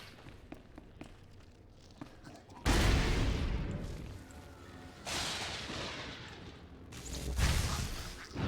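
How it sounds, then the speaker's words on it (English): Demolition charges explode in the video game Star Wars: The Old Republic, three heavy booming blasts spaced a few seconds apart, each with a rumbling tail, following quieter footsteps and scattered small impacts. "I heard the explosions when you set off the charges."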